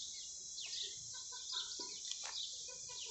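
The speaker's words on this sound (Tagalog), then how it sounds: "Manok o. Chicken." Chickens cluck faintly in the middle distance, a few soft repeated calls under a steady outdoor hiss, in a date palm setting in Saudi Arabia.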